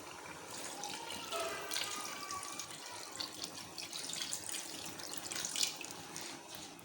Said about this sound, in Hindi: अब हम इसमें मज़ीद पानी ऐड करेंगे।